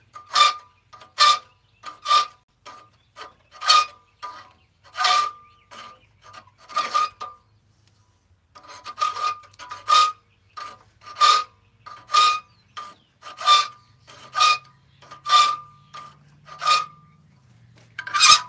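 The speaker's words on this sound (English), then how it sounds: "We're almost done filing, guys, I promise." A hand file works steadily over a forged steel chess piece, its close, rhythmic rasping strokes repeating with a short pause partway through.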